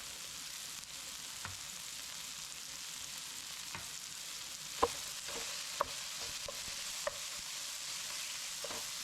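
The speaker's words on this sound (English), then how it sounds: "And that sizzle." Steady, close sizzling of gravy cooking in a pan, with occasional light clicks and taps from stirring.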